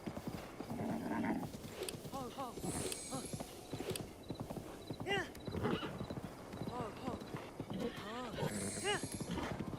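Horse hooves clip-clop in a steady rhythm in The Legend of Zelda: Breath of the Wild, broken by several loud whinnies and neighs, while a person talks over much of it.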